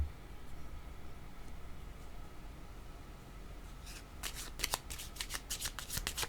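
Cards being shuffled for a card reading, quiet room tone at first, then a close burst of rapid riffling flutters over the last couple of seconds.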